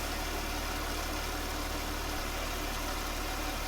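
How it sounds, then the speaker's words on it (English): Steady low tractor engine idle in Farming Simulator 19, a continuous even rumble with a faint mechanical hum on top, running alone with no talk over it. "Still love this tractor, really good fun."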